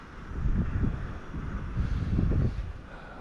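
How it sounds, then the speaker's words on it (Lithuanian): Morning wind gusts buffet the microphone outdoors in two low rumbling surges, rising and easing over a few seconds with no other sounds. "Vėjas koks ryte pakilęs."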